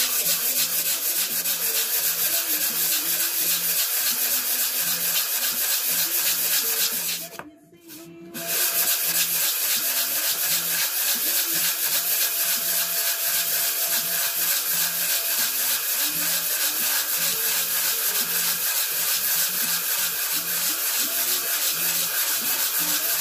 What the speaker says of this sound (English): going to sort the handle scales out before I do the final sanding